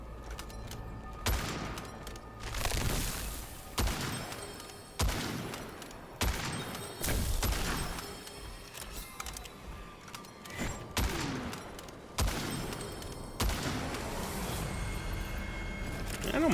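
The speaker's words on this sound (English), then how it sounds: "I don't mind this rifle." Rifle gunfire in the dark fantasy shooter Witchfire, a string of loud, separate shots spaced every second or so, each with a booming tail, no talking.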